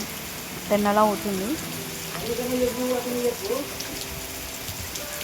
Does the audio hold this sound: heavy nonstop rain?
yes